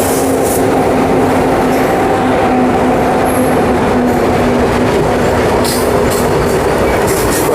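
Twin WAG7 electric locomotives pass through a station without stopping, a loud continuous roar of rumbling wheels and rail noise with a steady tonal hum and occasional high squeals, close and sustained throughout.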